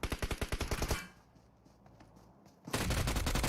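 Automatic gunfire in a PUBG Mobile esports match, a rapid burst of loud shots, a brief lull with faint distant pops, then another dense, sustained volley.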